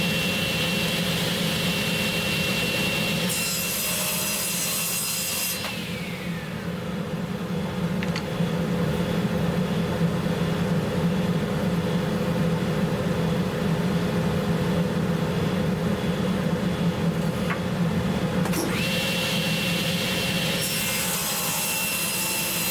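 Table or band saw blade steadily cutting wooden spline stock for ladder spline box joints, a continuous loud whirring rasp with brief changes in pitch as the cut starts and ends.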